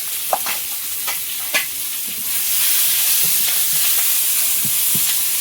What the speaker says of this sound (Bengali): এবারে ওই তেলের মধ্যে একটু শুকনো লঙ্কা দেবো